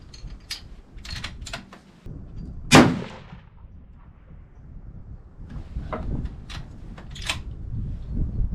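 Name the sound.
Seekins 6.5 PRC rifle shot, 56 grains of H1000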